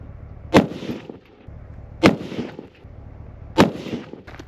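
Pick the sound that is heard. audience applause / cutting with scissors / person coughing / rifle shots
rifle shots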